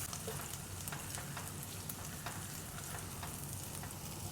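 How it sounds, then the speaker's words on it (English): Garlic and curry leaves frying in oil in a pan, a steady close sizzle with a constant crackle and a few sharp pops, no voices over it. "Cook the garlic till it's nice and golden brown"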